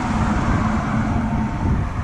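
Cars drive past on a road beside the 4 Mile Cove fishing pier in Florida. The traffic makes a steady broadband roar that stays close and loud throughout, with no speech.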